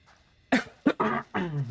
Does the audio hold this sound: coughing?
yes